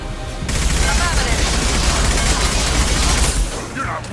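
Rapid bursts of gunfire from Mass Effect 2 combat rattle almost nonstop, loud and dense, with voices speaking over the shooting.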